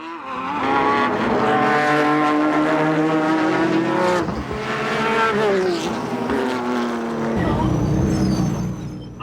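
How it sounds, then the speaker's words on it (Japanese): Nissan Skyline and Toyota Supra racing cars battle in a 1997 JGTC GT500 race, engines screaming loud and continuous with rising and falling pitch, a near pass around the four-second mark, and a brief tyre squeal late on. "ゼクセルスカイラインがスープラをかわしトップに立つ。"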